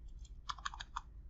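Slow typing on a computer keyboard while coding a drawing app, a short run of about six soft, close key clicks spaced unevenly over low room hum.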